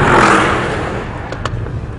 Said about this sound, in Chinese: 我的油门踏板刚刚踩到底，尾速就已经突破了180